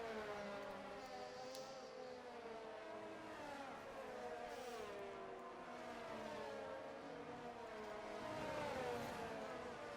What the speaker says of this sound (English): As we watch the cars go for their outlaps.